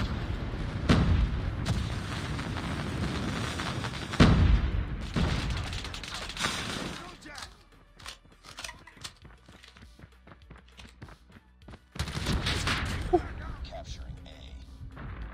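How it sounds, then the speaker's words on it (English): Airstrike explosions and bursts of gunfire in the Call of Duty Mobile video game, heavy booms at intervals with scattered shots, a quieter stretch midway, then loud blasts again. "Friendly airstrike incoming"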